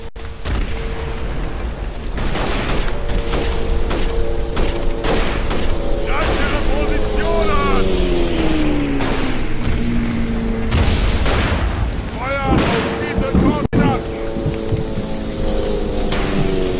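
Rifle fire and explosions in the World War I shooter Verdun on the Flanders map, loud repeated booming shots over a steady rain-like ambience, with someone talking over the game sounds.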